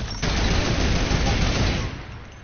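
A burst of rapid video game gunfire in a 2v2 match rattles loudly for about two seconds and then fades into a dull tail.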